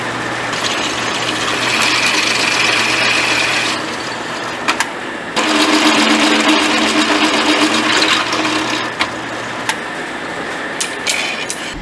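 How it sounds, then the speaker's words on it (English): A power drill boring pilot holes through metal suspension mounts, a steady whirring motor in two long runs separated by a short pause, close and loud, with faint clicks between. "Now I need to drill at least the pilot holes through all of them."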